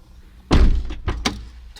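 The driver's door of a Toyota Scion thuds as it opens and shuts, with one heavy slam followed by two quicker, lighter knocks close by in a quiet setting.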